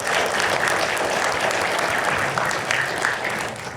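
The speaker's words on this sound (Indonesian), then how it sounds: "Aplaus untuk anak muda topi merah." Loud, dense applause from a crowd at a televised Indonesian debate, steady and sustained throughout with no voices breaking through.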